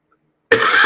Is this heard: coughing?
yes